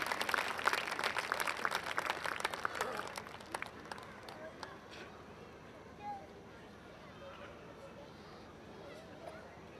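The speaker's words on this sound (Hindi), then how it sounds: "जोरदार तालियां" An audience at a Hindi poetry gathering in Navi Mumbai claps loudly for a few seconds, then the applause thins and fades to quiet room murmur.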